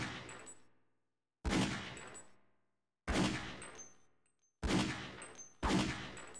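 Gunfire in the game Half-Life: Opposing Force, four loud separate shot blasts each ringing out in a decaying tail, spaced about a second or so apart with silence between.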